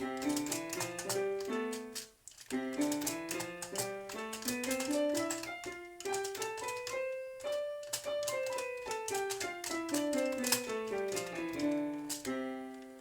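Piano played with two fingers of the right hand in a simple exercise, a steady run of single notes stepping up and down the keyboard in even rhythm, close and clear, with a brief pause partway through.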